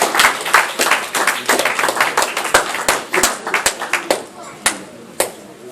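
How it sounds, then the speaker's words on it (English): A church congregation claps at a Feast of Trumpets service, first dense and overlapping, then thinning to scattered, sharp individual claps that fade out near the end. Voices are heard faintly under the clapping. "Keep that clap going."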